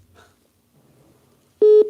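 A phone sounds with an incoming call, one loud electronic ring tone about a fifth of a second long, arriving abruptly after near silence and heard with no talking.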